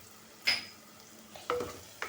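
Hing, turmeric and Malvani masala sauté in hot oil. Quiet sizzling is broken by three sharp scraping strokes of a spoon against the pan, spaced about a second apart.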